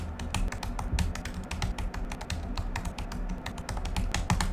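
Typing on a computer keyboard, a steady stream of quick, crisp key taps at an even pace, close and moderately loud, with no voices.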